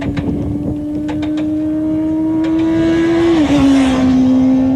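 A motorcycle accelerating out of a corner on a race track, its engine a steady droning tone that climbs as the throttle opens, then drops in pitch and keeps running near and loud.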